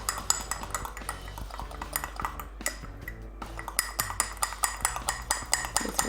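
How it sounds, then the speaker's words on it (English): A fork clinks and scrapes rhythmically against a bowl, mixing milk into flour for a whiskey BBQ sauce dressing, with steady close clatter and a brief pause partway through. "I'm just going to use a fork to mix it all together and get all those flour lumps out"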